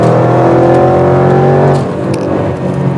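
A 550 hp Range Rover SVR accelerating hard to overtake, its engine note loud and close with a rising, steady drone that eases slightly near the end under a constant road rumble.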